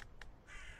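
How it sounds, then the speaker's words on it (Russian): A crow caws in a horror-tinged video game, two quick sharp calls close together, then a soft steady hiss with no one talking. "Ворона на обед."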